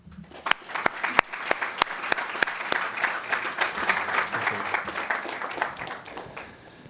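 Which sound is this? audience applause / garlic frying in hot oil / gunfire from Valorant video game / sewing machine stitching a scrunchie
audience applause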